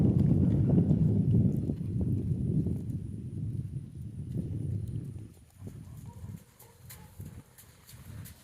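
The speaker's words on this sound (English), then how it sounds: "we get to listen to the pretty gaiting" Gaited horse hooves clop along in a quick, even, rolling rhythm, loud at first and then softer as the horse moves farther away; no talking.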